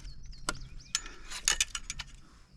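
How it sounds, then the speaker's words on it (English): A fishing reel on a bowfishing rig, used from a kayak, gives off scattered sharp mechanical clicks and ratcheting ticks, several quick bursts close by with creaking whines in between. "That reel's giving me fits."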